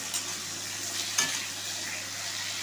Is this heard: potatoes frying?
yes